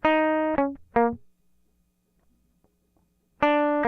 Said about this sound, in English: That's the DI track, so it's just very clean, super dry, no reverb.